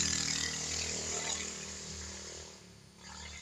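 A small motorcycle rides past in a park, its engine a fairly loud, steady buzzing drone that fades toward the end, with no talk over it.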